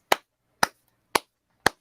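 Four sharp, evenly spaced hand claps, about half a second apart, loud and close with silence between them, marking approval of a Raw Women's Championship match pick between Bianca Belair and Asuka.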